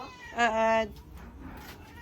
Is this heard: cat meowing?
yes